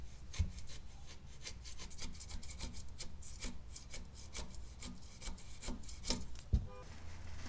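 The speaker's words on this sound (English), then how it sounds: "we're going to be using a gasket scraper" A plastic gasket scraper rasps old gasket material off a metal rear differential cover on a Silverado, a run of repeated short scraping strokes with occasional knocks, close and steady, with no talking.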